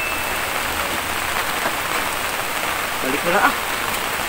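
Steady rainfall pouring down close by as a dense, even hiss on surfaces, with someone briefly speaking over it near the end.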